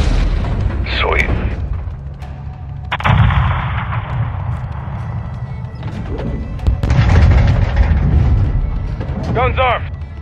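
Gunship cannons pound enemy positions in Call of Duty: Modern Warfare II, heavy booming bursts with long rumbling tails, loud and close, while radio chatter plays between the shots.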